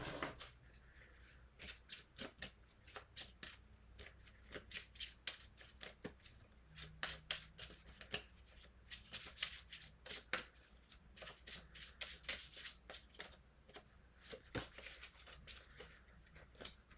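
A deck of Deviant Moon Abandoned Oracle cards is shuffled over and over, a long run of soft, rapid papery riffles and slaps coming in quick bursts, close and quiet.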